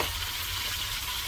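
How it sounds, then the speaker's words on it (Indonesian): Chili stir-fried in a pan outdoors in a small garden, a dense, steady hiss of frying close by, continuous and loud with no talking. "tumis cabai ya"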